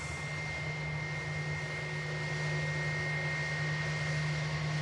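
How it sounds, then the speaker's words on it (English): An Airbus A320 with IAE engines arriving at Manchester Airport from Barcelona gives a steady, continuous jet roar with a sustained whine, holding at moderate loudness throughout without speech. "next arrival from Barcelona. An Airbus A320 with the IAE engines."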